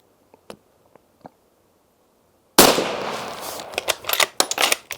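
A Sauer 505 rifle fires Gecko Zero bullets: a few faint distant cracks, then a loud near blast followed by a rapid burst of sharp reports with ringing echo.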